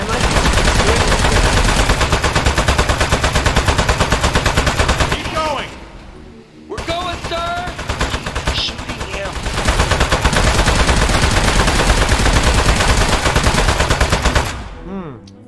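Sustained rapid gunfire from the video game Aperture Desk Job, loud and dense, dropping out briefly midway before resuming at full intensity with a few brief tonal game sounds in the lull.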